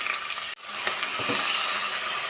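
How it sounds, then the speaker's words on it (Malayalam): Thinly sliced onions hit hot coconut oil for a Kerala mutton curry: a brief hush, then a sudden loud, sustained sizzle with dense crackle that holds steady to the end. "വെളിച്ചെണ്ണ ചൂടാവുമ്പോൾ ഇതിലേക്ക് കനം കുറച്ച് നീളത്തിലരിഞ്ഞ സവാള ചേർത്ത് കൊടുക്കാം."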